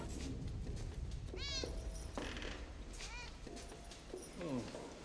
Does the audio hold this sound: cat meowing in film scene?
yes